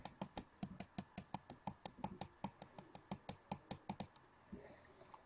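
Computer keyboard keys pressed in a quick, steady run of about twenty sharp clicks while someone plays Realm of the Mad God, tapping ending abruptly near the end with faint room noise left.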